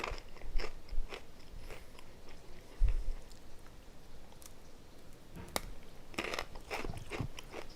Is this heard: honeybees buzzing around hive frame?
no